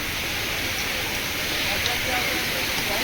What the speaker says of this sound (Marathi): एकदम मोठा धबधबा आहे